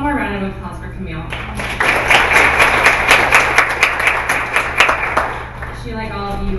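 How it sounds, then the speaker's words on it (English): Applause from a conference audience at a skill session, a dense burst of clapping rising in the middle and fading, with a voice talking before and after over a steady hum. "One more round of applause for Camille."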